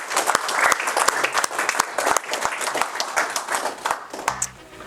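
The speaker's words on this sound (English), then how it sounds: "Let's have a round of applause for Andrea Hutchins." A studio audience applauds a guest with dense, lively clapping that fills most of the moment before tapering off near the end, with no one speaking over it.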